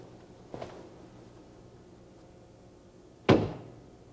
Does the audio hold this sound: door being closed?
yes